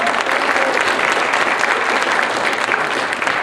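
Loud, sustained applause from a crowd for soloists at a band clinic performance, dense clapping filling the whole moment.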